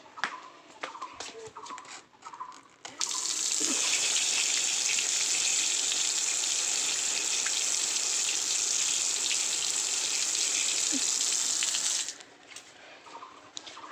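Guava rinsed under a running kitchen tap: a steady hiss of flowing water for about nine seconds, preceded and followed by quieter handling sounds.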